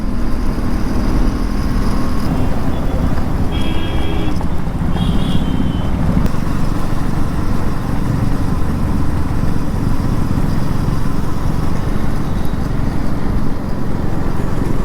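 Motorcycle riding through Kolkata traffic toward the Santragachi toll plaza: a loud, unbroken roar of wind and engine for the whole stretch, with a few faint high tones near the start.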